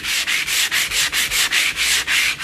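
Close, rhythmic sanding strokes over a tile coated in relief paste, about a dozen steady back-and-forth rubs in quick succession with no voices.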